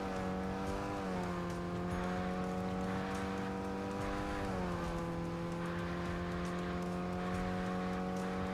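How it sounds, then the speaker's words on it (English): A racing video game car engine drones with a steady tone that shifts pitch twice, overlaid by a continuous squealing tire skid, all synthetic-sounding and constant. "The funny skidding sounds are horrendous."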